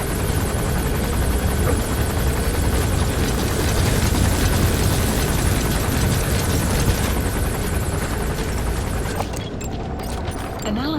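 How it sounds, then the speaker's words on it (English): An enemy gunship helicopter in the Metal Gear Solid V video game hovers close, its rotor roar a loud, steady wash that thins out in the final seconds. "Boss, get down. That's an enemy gunship."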